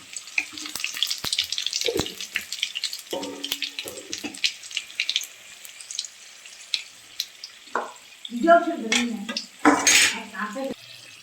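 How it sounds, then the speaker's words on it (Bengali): Green chillies and black cumin seeds sizzle in hot oil in a wok, a steady bright hiss broken by several sharp metallic clanks of a utensil against the pan, close by with no talking. "আমাদের লঙ্কা এবং কালো জিরা ভাজা হয়ে গেছে।"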